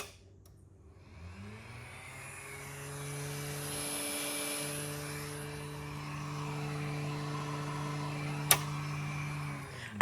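A noisy 3D printer runs steadily, giving a sustained mechanical hum with several stacked droning tones and a faint whirring hiss, plus a brief sharp click near the end; no one speaks.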